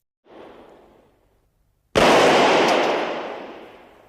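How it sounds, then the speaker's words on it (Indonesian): A long-range rifle shot fired by an elderly man during a shooting test: a softer muffled burst first, then one sharp loud crack that cuts in and decays slowly, with no talk. "Si bos kemudian menguji kemampuan kakek Ivan dalam menembak jarak jauh"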